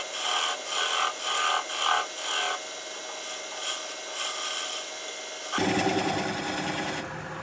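A wood lathe turns a tenon while the tool rasps and scrapes against the spinning wood, a rhythmic pulsing cut that shifts to a denser, steadier hiss partway through, close and loud with no talking.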